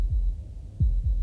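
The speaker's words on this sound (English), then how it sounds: "That was the sound of a heartbeat, followed by another." Deep, muffled heartbeat thumps in the video game Slay the Princess, three low pulses over about a second, close and heavy against a quiet hum.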